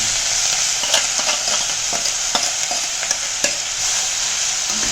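Snake gourd pieces hit frying urad dal in a pan and get stirred, giving a steady hiss of sizzling oil broken by sharp scraping and clicking strokes of the spoon, close and alone.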